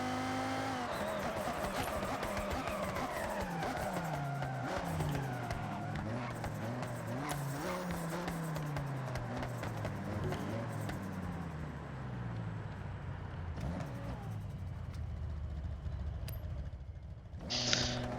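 A Forza Edition Mazda Miata races hard in X class in the Forza Horizon video game, its engine note climbing and falling through gear changes with tire squeal, loud and continuous throughout.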